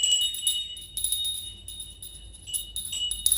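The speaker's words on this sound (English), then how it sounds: "Soon it rang loudly, as did every bell in the house." Bells ringing and jingling continuously with high, shimmering tones, fairly faint and steady, swelling slightly at moments.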